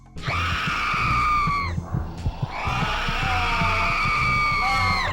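A zombie frog in a horror film lets out a piercing, drawn-out scream, loud and close, which breaks off briefly and then rises again in a second long, wavering shriek over rumbling low noise.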